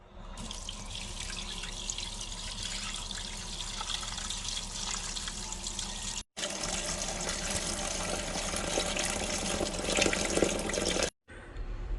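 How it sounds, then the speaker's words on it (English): Water gushes steadily from a faucet into a dish holding mackerel set to soak, a continuous close splashing stream with two brief cuts near the end. "I'm gonna add some water to it."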